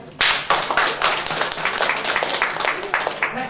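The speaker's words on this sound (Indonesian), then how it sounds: "Tepuk tangan dong" Clapping from a conference audience in Yogyakarta bursts in sharply after a brief moment and continues as lively, somewhat uneven applause from a moderate-sized crowd, with individual claps audible.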